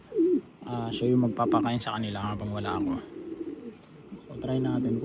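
A caged pigeon or dove, kept with its mate, repeats soft throaty coos in a close, rhythmic series, with a person speaking briefly near the start.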